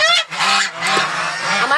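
Geese on a farm honk loudly and repeatedly, with overlapping nasal calls filling the whole stretch, close by and with no talking.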